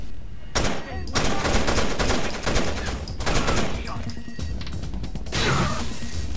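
Rapid automatic gunfire bursts in the video game Rainbow Six: Vegas 2, loud and dense with heavy recoil, firing almost continuously with brief gaps and a few sharp impacts.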